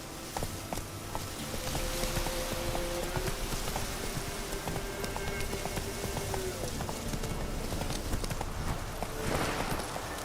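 Roach, Geralt's horse in The Witcher 3, walking with steady rhythmic hoof clip-clops over a noisy outdoor ambience, continuing for the whole stretch.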